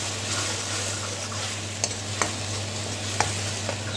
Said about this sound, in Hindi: अभी इसमें टमाटर, अदरक और लहसुन का पेस्ट वो डाल दिया। अब इसको थोड़ी देर पकाएंगे।